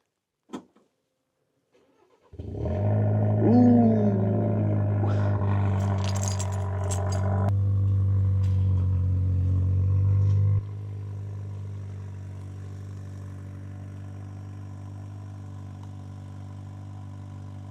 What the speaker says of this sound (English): I got to give you the MagnaFlow Overland Series exhaust cold start